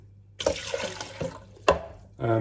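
Water pours into the plastic tank of a DeLonghi Nescafé Dolce Gusto coffee machine in a few splashy bursts, close and moderately loud, with a steady low hum underneath and a fuller gush at the end.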